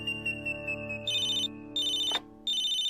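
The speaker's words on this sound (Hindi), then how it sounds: "ये फोन बजता जा रहा है" A telephone rings in a home with a repeating electronic ringtone, steady tones in short bursts separated by brief gaps, clear and fairly close with no voices.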